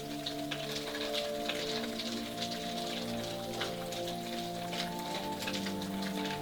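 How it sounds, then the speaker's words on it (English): Snowmelt drips steadily off a roof like rainfall, a dense patter of drops spattering on the surfaces below at close range, with a faint steady tonal hum running underneath and no voices. "not the rain, but the snow melt off the roof"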